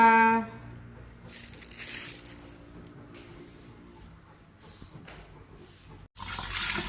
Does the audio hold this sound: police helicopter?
no